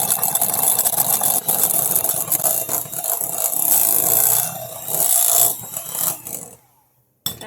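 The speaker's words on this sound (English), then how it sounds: "We're going to go beyond this and we're going to over whisk so it becomes like a cottage cheese consistency." Double cream is whisked past the whipped stage toward butter, making a busy, scraping mechanical whir with rhythmic rubbing that surges and dips before stopping abruptly into near silence.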